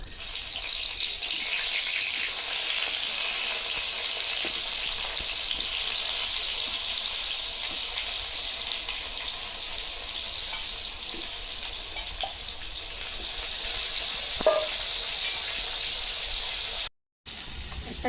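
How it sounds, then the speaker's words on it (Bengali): Eggplant rubbed with salt and turmeric frying in mustard oil in a wok, a steady, even sizzle at moderate distance with a few faint clicks and a brief cut near the end. "কড়াতে সর্ষে তেল দিয়ে দেব বেগুনে লবণ হলুদ মাখিয়ে দিয়েছি ভেজে নেবো"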